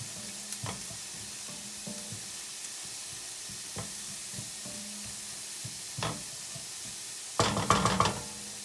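Flour cooking in a pan over medium heat for a batch of green chili, a quiet steady sizzle with scattered soft knocks and stirring clatter, and a louder burst of scraping and sizzle near the end.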